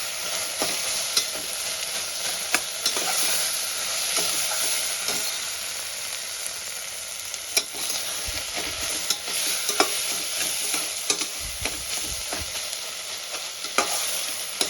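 Chopped onions sizzle steadily in a hot pan for South Indian tomato rice, with frequent scraping stirs and clinks of a spatula over a constant bright frying hiss, close and fairly loud.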